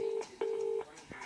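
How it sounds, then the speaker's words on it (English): Telephone keypad tones dial an emergency ambulance number, a few steady DTMF beeps in an irregular sequence, close and clear with no talking. "This is Aaron's call to the emergency services."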